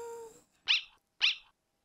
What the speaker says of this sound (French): Et là, c'est un petit chien.